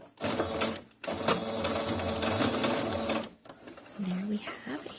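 A sewing machine stitches fabric for a handmade stuffed toy sloth, running in close, rapid mechanical bursts with a brief pause partway through, while a person talks over it.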